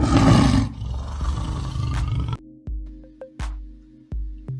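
A tiger roar effect opens with a loud, rough, drawn-out roar, followed by several shorter, sharp growling bursts separated by near silence, close and forceful.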